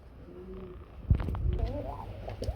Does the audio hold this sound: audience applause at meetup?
no